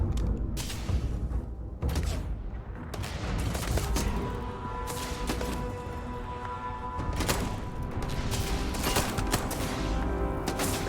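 Gunfire and combat in Starfield, with repeated shots and mechanical clatter forming a dense, busy mix that runs throughout; no speech over it.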